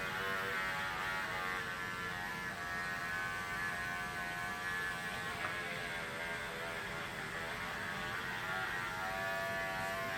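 Electric clippers buzz steadily and continuously while shaving a dog's fur, a close, even hum with slight shifts as the blade is dragged through the coat.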